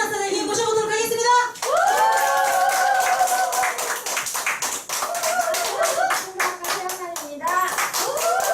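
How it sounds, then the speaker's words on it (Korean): A seminar audience at a business training event claps as a speaker comes on stage, with sharp, fairly rhythmic claps running throughout over loud tonal music. "최은환 사장님 나오실 때 진짜 뜨겁게 박수 쳐주셔야 돼요"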